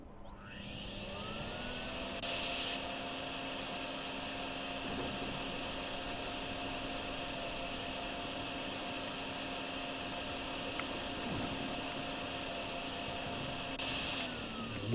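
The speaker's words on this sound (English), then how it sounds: "If anything, let me vacuum it." A vacuum runs in the Drain Simulator video game, spinning up at the start and then holding a steady mechanical drone with a constant pitch, close and continuous through the whole stretch.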